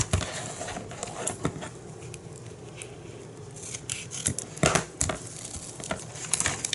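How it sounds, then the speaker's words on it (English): Scissors crunch and snip through a layer of scrapbooking paper at close range in several irregular bursts, with crinkling and rubbing of the paper between cuts. "And cut it."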